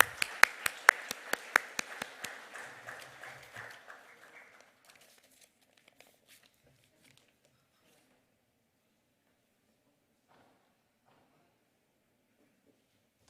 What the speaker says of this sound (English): please join with me with a big round of applause to welcome Mr.